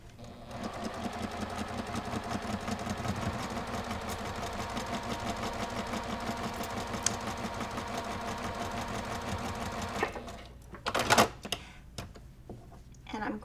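Sewing machine sewing a quilt block seam, a long continuous rapid stitching rattle close up that stops near the end, followed by a few clicks and a voice speaking.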